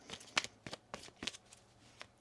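A tarot card deck being shuffled by hand, a series of soft riffling bursts and taps in an irregular rhythm, close and quiet with no talk.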